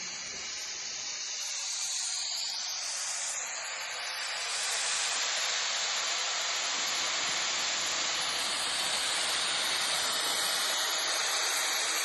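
A homemade hydrogen soldering torch gives a steady, loud, broadband hiss. The roar swells slightly about halfway through and then holds constant, with no voices.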